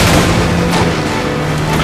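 An explosion goes off in the stunt-driving game Stuntman Ignition, a loud, heavy boom that rumbles on for about two seconds behind the engine noise.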